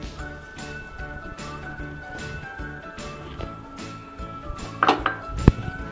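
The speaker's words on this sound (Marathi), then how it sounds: "आणि एकसारखं हलवून हा साबुदाणा ट्रान्सपरंट होईपर्यंत छान याच्यात शिजू द्यायचा आहे" Soaked sago and grated potato being stirred in a pan, a steady rhythm of spoon scrapes and light metallic clinks, ending in a few louder knocks against the pan.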